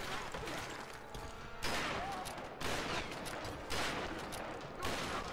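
Rapid bursts of gunfire in Tomb Raider (2013), sustained automatic volleys that swell and fade in several waves, loud and close, with a voice briefly audible.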